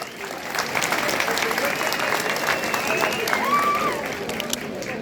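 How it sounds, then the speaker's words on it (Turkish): Crowd at the 38th Karamürsel oil wrestling festival applauding the wrestlers, steady dense clapping filling the whole stretch alongside a faint voice and whistle-like tone. "Büyük orta pehlivanlarına şöyle hep beraber bir moral alkışı yapalım. Bir alkış."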